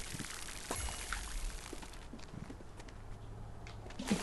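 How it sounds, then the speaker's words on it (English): Water pours over crop plots in the farming game Grow: Song of the Evertree, a soft splashing trickle with light footstep-like taps, fairly quiet and alone. "Just gotta water all these really quick."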